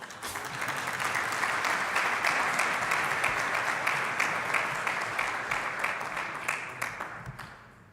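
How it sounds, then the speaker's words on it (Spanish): An audience at an expert panel on artificial intelligence and big data applauds a speaker: dense, steady clapping that holds for several seconds, then thins into scattered claps as it fades. "gracias por el aplauso"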